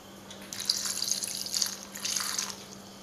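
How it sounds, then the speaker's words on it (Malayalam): Water runs and splashes into a bowl of grapes mixed with vinegar and salt, a steady close pour of about two seconds with a slight swell midway, over a faint low hum. "1/2 കിലോ മുന്തിരിയിലേക്ക് ഒരു മുടി വിനാഗിരിയും 1/2 ടീസ്പൂൺ ഉപ്പും കൂടി ഇട്ടിട്ട് ഞാൻ കുറച്ച് വെള്ളം ഒഴിച്ച് കുറച്ച് നേരം വെക്കുകയാണ്"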